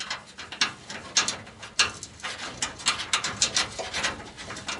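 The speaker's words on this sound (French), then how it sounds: "Je le visse dessus." A bolt is screwed onto a rear seat-belt mount on a Citroën Traction 11B, giving a run of short dry ratcheting clicks close by, steady in rhythm and without speech.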